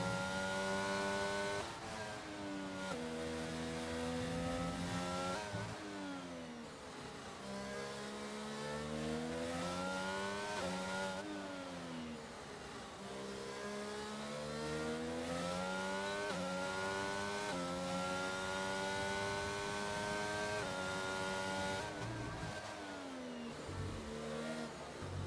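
A Mercedes Formula 1 car in a racing video game screams through a lap, the engine rising through the gears in repeated climbing sweeps, dropping sharply on downshifts for corners, loud and continuous with no voices.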